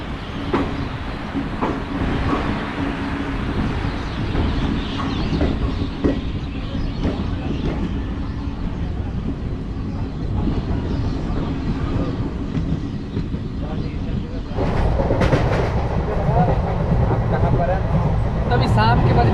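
The Shaktipunj Express rumbles along the rails, a continuous rolling drone with rhythmic clickety-clack heard from inside the carriage, while passengers talk in the background. The sound gets louder and harsher near the end.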